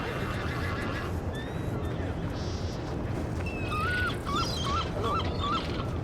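Horse whinnying in a role-play video game, several short high rising and falling calls over a steady bed of ambient game noise, moderately loud and near.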